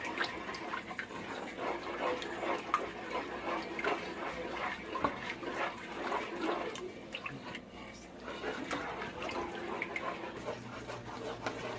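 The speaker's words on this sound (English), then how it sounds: "as you can see, it's starting to boil, bubble on" Homemade mac and cheese sauce made with milk comes to a boil in a pot, with soft, steady bubbling and popping close by at a low level.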